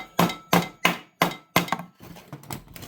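A hammer strikes to split the case of a STIHL 064 chainsaw: five sharp, evenly spaced knocks close by, followed by a flurry of quieter taps and rattles.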